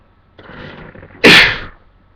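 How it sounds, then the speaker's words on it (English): A single loud, close sneeze bursts out after a soft intake of breath, sharp and brief before fading quickly. "I did not think I'd ever sneeze in a video."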